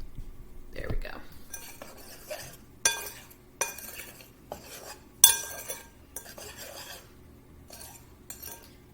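A spoon clinks and scrapes against a bowl while stirring scone ingredients together, giving a series of sharp metallic taps and rasps at an uneven rhythm, close and fairly quiet.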